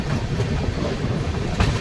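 Kolkata–Guwahati Garib Rath express curving into Kamakhya Junction in heavy monsoon weather, a close, heavy rolling rumble with quick clattering wheel knocks on the rails, steady and loud.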